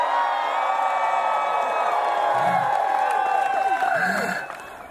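A Renaissance Faire show crowd cheering and whooping loudly with scattered shouts, a sustained burst of voices that fades near the end.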